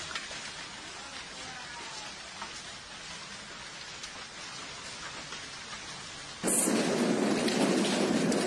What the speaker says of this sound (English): A violent hailstorm struck western Friuli starting at 6:30 a.m. on Sunday 1st August.